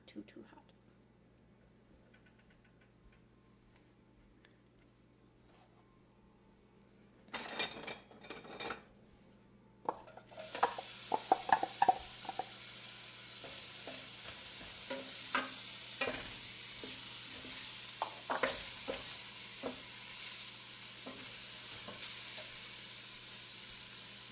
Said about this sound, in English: add the onion and garlic to the pan before it gets too hot